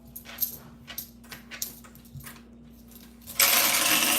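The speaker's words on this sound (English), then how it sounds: "My dog's being a crazy dog." A dog acts up in a room during a penny box search, giving several short, sharp yips and whimpers close by, followed by a sudden loud, steady rushing noise that fills the last second.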